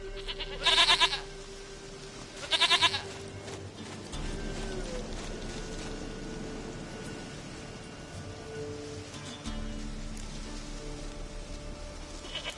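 Two sharp goat bleats from The Witcher 3: Wild Hunt ring out close together near the start, followed by a soft, rain-like ambient hiss and low game music.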